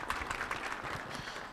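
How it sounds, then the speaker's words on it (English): A short, faint burst of audience applause at an entrepreneurs' association event, soft scattered clapping from a crowd heard at a distance, lasting just over a second. "I want us to give a round of applause to the organizers of this event."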